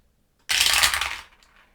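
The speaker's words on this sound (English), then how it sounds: "We get to roll 4 dice." Four dice tumbling together during a round of the board game Final Girl, one dense rattling clatter lasting under a second, close and fairly loud, then a faint trailing settle in near silence.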